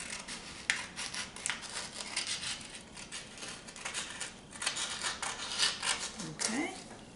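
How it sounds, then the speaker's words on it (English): Scissors snipping off an extra strip of paper to square it up, with a run of close, crisp cutting and rustling sounds and some light handling noise. "So first just cut that piece off."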